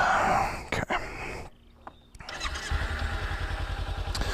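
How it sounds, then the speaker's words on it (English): An already warmed-up motorcycle engine turns over and catches after a brief pause, then settles into a steady, close, loud idle with a rapid even putter. "So let's go ahead and fire up the bike."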